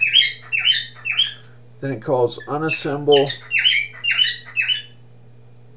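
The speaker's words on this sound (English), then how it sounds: "god damn that bird" Small bird chirping in repeated quick bursts of bright tweets, close and fairly loud, with someone talking in the middle of the calls over a steady low hum.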